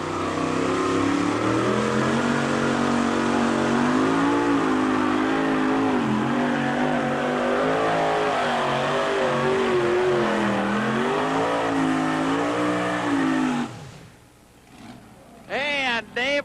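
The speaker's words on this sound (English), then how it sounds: "Dave LAMAR, the dirt track Cadillac from Holland, Michigan, will be our first puller here in the two-wheel drive class" Two-wheel drive pulling truck, the Dirt Track Cadillac, at a 1991 truck pull in Arcola: a loud, sustained engine roar that wavers in pitch as it strains, then abruptly cuts off, with an announcer's voice faintly beneath.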